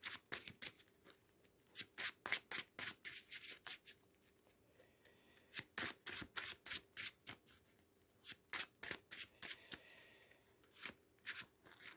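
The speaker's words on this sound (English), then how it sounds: "let's shuffle the character deck quickly" A deck of game cards from Marvel Champions: The Card Game is shuffled in repeated quick riffling bursts, close and crisp, with short pauses between rounds.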